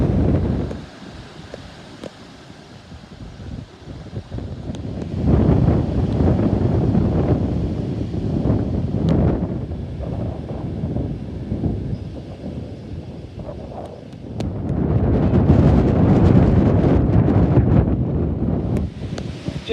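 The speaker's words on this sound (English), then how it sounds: "the wind is absolutely horrendous, so I can only apologise for that" Strong gusts buffet the microphone on a platform at the newly built Cambridge North railway station, producing deep, roaring rumbles that swell and fade in long surges, with the loudest blasts near the start and end.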